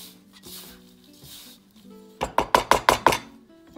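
Dandelion fritter batter being mixed in a bowl, a burst of five quick rhythmic scraping, tapping strokes close up, following a quieter stretch of faint handling.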